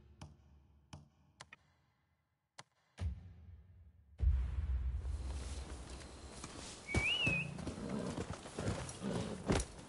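Hooves of a horse in the video game Rise of the Ronin clip-clop in a steady walking rhythm after a few sparse ticks, with a brief whinny over a constant ambient bed.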